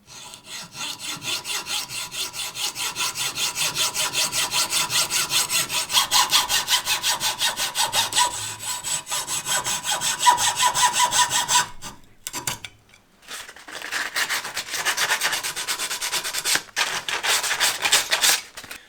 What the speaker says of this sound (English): The first step is to cut these wood sticks to length.